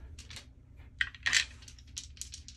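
Dice tumbling and clattering across a craps table in a casino, heard as a few quick, light rattles and clicks with a louder burst partway through, over low room hum.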